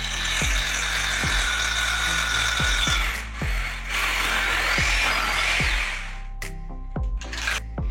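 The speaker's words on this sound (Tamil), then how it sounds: "டைல்ஸில் ஹோல் போடும்போது ஃபஸ்ட்டு நம்ம நார்மலில் வச்சு ஹோல் போட்டுக்கணும்" A power drill grinds loudly into tile at close range while fitting a western toilet flush tank, rattling rhythmically, with short pauses before starting again near the end.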